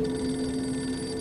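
A telephone rings steadily and loudly with a sustained bell-like tone, part of a staged call placed to a target's table where a bomb waits, with no voices over it.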